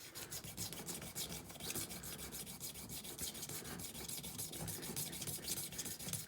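A sharpening stone rubbed back and forth against the steel of a 1911 Government Model pistol frame during fitting, a continuous close rhythmic grinding rasp with quick regular strokes, no talking.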